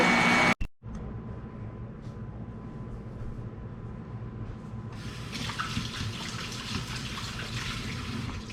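Cold tap water runs steadily over homemade butter being rinsed in a kitchen sink; a brief clunk at the start, then the stream grows louder and more splashy halfway through.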